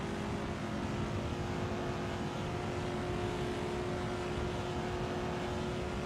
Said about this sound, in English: I assume it is a V8 engine, I'm not entirely certain, absolutely roars away